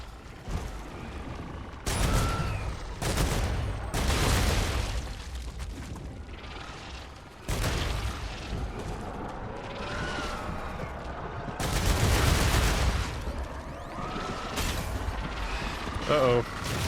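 Gunfire from shooting enemies in a video game: repeated loud bursts of shots in clustered volleys across the stretch, mixed with mechanical and aircraft-like drone, and someone talking over it.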